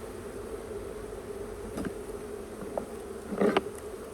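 Honey bees buzz steadily around an opened hive, agitated after a frame is shaken, with a continuous insect drone and a few louder close passes near the end.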